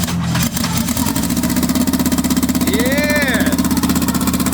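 A turbocharged Honda B-series GSR engine in an EK Civic hatchback starts for the first time, cranking and catching into a loud, lumpy, rhythmic idle close by. A person briefly speaks, and a short rising whistle sounds over the engine.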